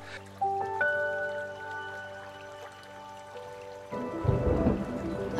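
A huge storm at sea batters a teenage sailor's boat on a round-the-world voyage. Sustained music gives way after about four seconds to a loud, dense roar of heavy rain and rumbling thunder.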